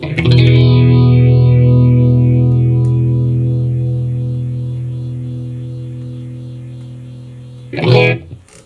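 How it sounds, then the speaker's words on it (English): An electric guitar chord rings through a Dophix chorus-phaser pedal, swirling as it slowly decays over several seconds before a brief fresh strum near the end. "this chorus phaser pedal from Dophix"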